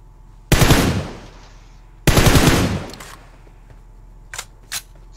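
Gunfire in a shooting video game comes in two loud, sustained automatic bursts of about half a second to a second each, followed later by two short faint shots.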